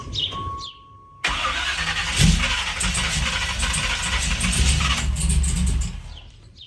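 A rebuilt 350 engine in a 1986 Camaro Z28 cranks and catches on its first start attempt, then runs loud and rough for several seconds close to the listener before dying away. A brief tone and quiet stretch come before it.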